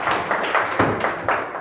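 A class claps in a steady rhythm of about six sharp beats over less than two seconds. The claps are close and fairly loud.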